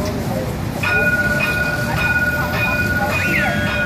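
A VLT light rail train leaves a station on the Baixada Santista line in São Vicente, with a loud, steady rumble, a rising whine and high tonal squeals along with a few signal tones, under someone talking.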